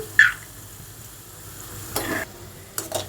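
Onion and green chili sit in a pan on the stove, a faint sizzle under a few scraping strokes of a spatula, sparse and nearby with no talk.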